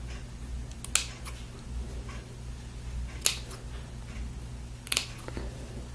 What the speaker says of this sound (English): on the curve, you just want to cut some little triangles out